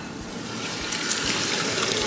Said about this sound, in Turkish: Domatesini ekleyelim.